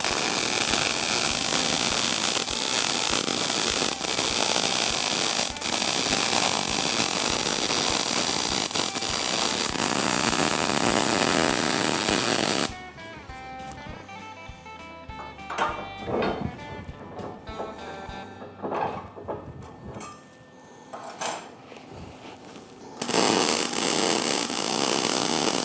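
Welding a hitch onto a barrel train: a loud continuous crackling buzz for about half the clip, then quieter workshop sounds with intermittent bursts before the harsh noise returns.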